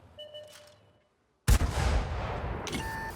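A Matilda IV tank cannon fires in a World of Warships-style armoured combat game, one sudden loud blast after a brief silence, followed by a long rumbling decay and faint engine hum.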